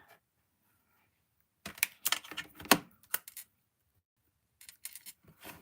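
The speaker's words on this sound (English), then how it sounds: "I'm going to run that through my die cutting machine." A die cutting machine runs with paper through it, giving irregular bursts of clicking and crunching mechanical noise with quiet gaps between, close and fairly soft.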